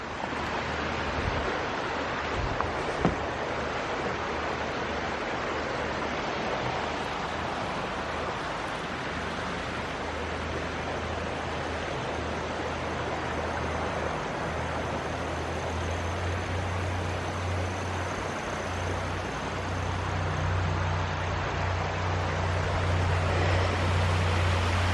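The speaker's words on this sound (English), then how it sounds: "You hear the water and get this nice view." Water rushes steadily at an abandoned mine drainage site, giving an even, broad hiss that is close and continuous throughout, with a faint low rumble building near the end and no voices.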